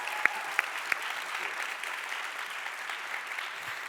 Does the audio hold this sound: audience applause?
yes